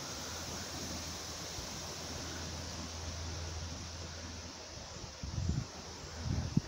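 Breezy wind blowing outdoors, a steady broadband rush with low rumbling buffets, swelling into louder gusts near the end; no voices.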